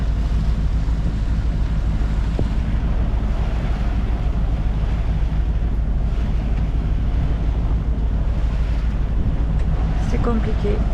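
Strong wind roars steadily across the microphone aboard a sailboat at sea off Gruissan, with waves and surf washing continuously beneath it; a voice speaks faintly under the noise.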